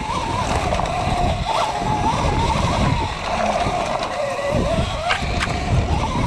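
A Litespeed 72-volt Surron electric dirt bike rides along a trail, its motor whining steadily under rushing wind and rattling ground noise, continuous and close throughout.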